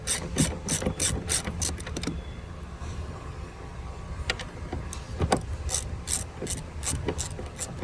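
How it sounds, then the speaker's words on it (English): A ratchet wrench clicks in quick rhythmic bursts while a bolt is removed from under the seat of a 2019+ Ram 1500 Crew Cab truck, close and moderately loud, with short pauses between runs. "you can see the remaining bolt there that needs to be removed"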